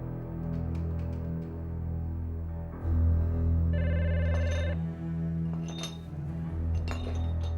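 A telephone bell rings in an indoor scene, a steady ringing tone with chiming, clinking overtones that swells midway and continues over a low background hum, fairly close and moderately loud.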